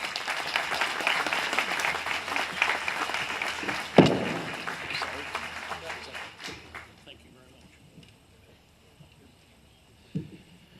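Applause from an audience at an outdoor statue dedication ceremony, a dense burst of clapping that gradually thins and fades over several seconds, with a sharp thump partway and speech around it.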